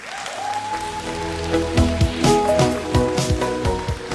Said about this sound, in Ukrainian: ще трохи оплесків